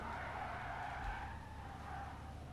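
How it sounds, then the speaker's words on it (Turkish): Tires skid and squeal as a car drifts in the driving game Car Simulator 2, a steady loud screech that wavers in pitch and holds throughout with no talking. "İnanılmaz derecede zor drift yapmak onu söyleyeyim."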